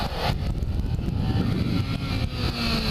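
A Kawasaki Ninja 300 motorcycle engine, a 2013 model, hums close by at steady throttle while the front wheel comes down from a sitdown wheelie, giving a continuous mid-pitched drone.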